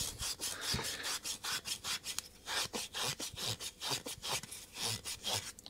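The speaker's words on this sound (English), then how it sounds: "Tip it on its side, and then just with a bit of wire wool, just start to rub" Wire wool scrubs around a lawn mower carburetor in quick, even back-and-forth strokes, each one a close, gritty rasp, with no talk over it.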